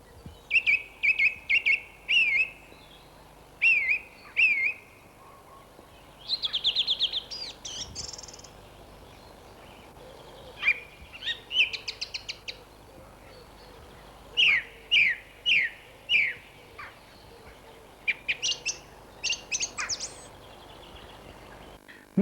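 Song thrush singing in the open, a run of clear whistled phrases, each repeated in short bursts with brief pauses between, fairly near against a quiet background.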